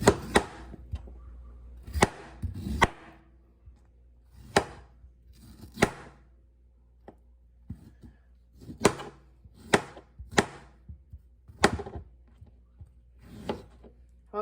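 A knife chops mango for a salad on a cutting board, giving a dozen or so sharp, close knocks in irregular bursts with quiet gaps between them.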